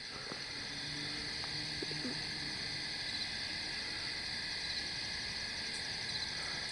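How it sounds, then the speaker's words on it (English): Thousands of crickets chirp at night outside Albany, New York, a dense continuous high drone with no gaps, steady and distant, with a few faint low calls beneath. "I am listening to thousands of crickets"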